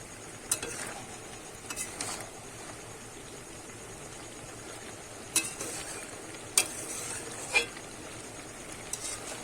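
Bottle gourd greens cooking with shrimp in a pan are stirred, soft scraping under a low background sizzle, with a few sharp clinks of the spoon against the pan spaced irregularly.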